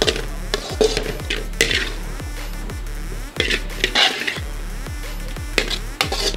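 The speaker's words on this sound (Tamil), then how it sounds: "இப்போ நம்ம ஜாரில் ட்ரான்ஸ்ஃபர் பண்ணிக்கலாம்." Cooked chickpea masala for channa masala being scooped into a mixer jar while still hot, heard as a series of close metallic clinks and scrapes of a spoon against steel at an uneven rhythm.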